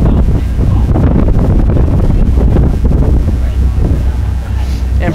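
A brutal cross headwind roars and buffets the microphone nonstop during a 2015 lightweight men's rowing race between Princeton, Columbia and Navy. Faint commentary may sit underneath.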